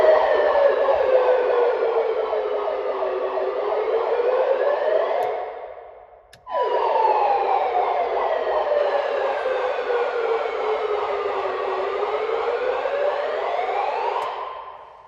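A loud wailing police siren fitted to a Mahindra Scorpio Classic SUV sweeps up and down continuously, briefly cutting out midway before resuming at full volume with a slight echo.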